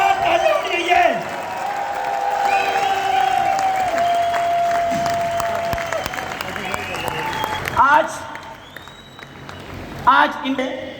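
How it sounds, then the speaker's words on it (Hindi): Audience applause at a large motivational event, sustained crowd clapping with scattered cheers and whoops while a speaker talks over it, fading after several seconds. "शानदार ताली होनी चाहिए।"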